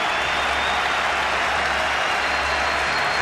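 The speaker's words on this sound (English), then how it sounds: "Gets good support from the Pindi crowd." A cricket crowd at Rawalpindi applauds Sachin Tendulkar's fifty in a one-day international against Pakistan, steady loud clapping filling the whole stretch with a faint underlying murmur.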